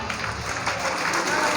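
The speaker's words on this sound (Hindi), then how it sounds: "आप सबकी भरपूर तालियों में" Audience applause at an Islamic school annual prize ceremony, a steady broadband wash of clapping from a crowd that fills the short moment evenly and fairly loudly.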